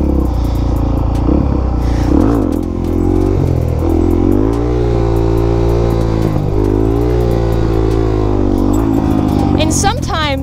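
A Suzuki DRZ400SM supermoto engine revs hard during a wheelie attempt, its pitch rising and falling in repeated throttle blips. It is loud, close and continuous for the whole stretch.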